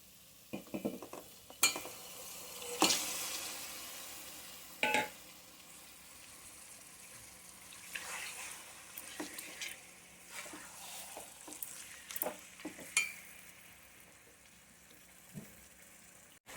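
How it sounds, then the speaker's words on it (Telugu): Chicken frying in a pan with onions and ginger-garlic paste for a restaurant-style chicken curry, a steady sizzle broken by several sharp spoon-stirring clatters, close and alone with no talk. "అల్లం వెల్లుల్లి పేస్ట్, ఆనియన్స్లో మనం స్మాష్ చేసుకు పెట్టుకున్న చికెన్ని వేసేద్దాం."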